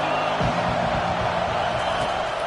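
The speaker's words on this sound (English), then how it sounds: "this crowd is tearing the lid off this place" A football stadium crowd at a Kansas vs Oregon game roars on third down, a dense, steady wall of cheering that fills the whole stretch at high volume.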